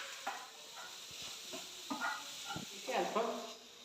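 Banana and grated coconut get stirred in a pan, with scraping strokes and soft sizzling heard up close in irregular bursts that grow busier toward the end.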